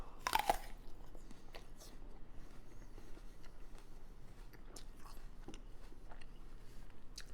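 Crunchy food being bitten and chewed right beside a lavalier microphone, opening with a loud crisp bite followed by several seconds of quieter, irregular close-up crunching and mouth noises.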